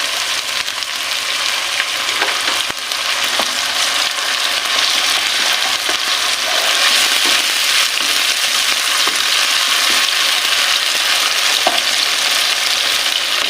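Tomato and six whole green chilies fry in a pan, giving a loud, steady, close hiss of sizzling oil throughout, with a few faint stirring taps and no voices.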